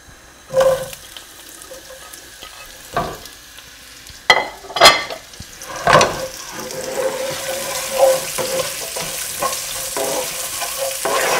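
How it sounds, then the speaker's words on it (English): Onions drop into hot oil with cumin seeds and sizzle steadily, with intermittent stirring scrapes and clatter of a utensil against the pan. "And now I'm going to add the onions."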